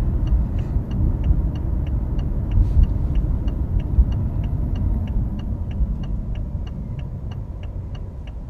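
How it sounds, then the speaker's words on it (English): Inside a 2015 BMW i8 with its 3-cylinder engine, a low, even engine drone hums while driving, joined by a regular light ticking like an indicator clicking throughout. "I would never suspect that it's a 3-cylinder engine."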